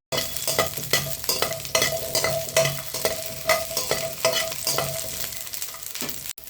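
Small onions and large garlic cloves frying in a pan, stirred with a spoon in a repeated scraping rhythm over a steady sizzle, close and fairly loud with no voices.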